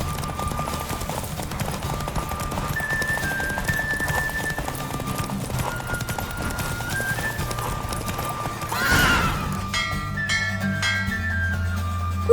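Horses gallop in a race in The Witcher 3, with steady clip-clop hoofbeats and a whinny near the end, all under a game music bed.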